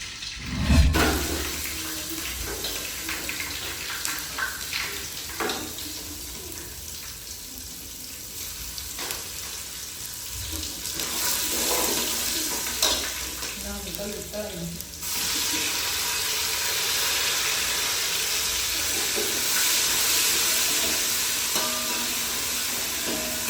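Chopped garlic hits a hot pan and sizzles steadily for over twenty seconds, a broad close frying hiss with a sharp burst at the start and occasional stirring.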